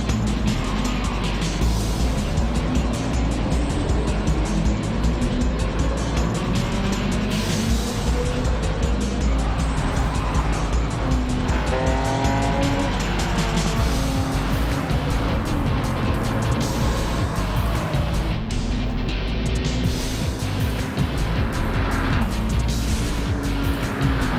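Race cars in a racing video game, including white and red Nissans, roar continuously as they overtake one another, engines revving and shifting with tire squeals, loud and close throughout.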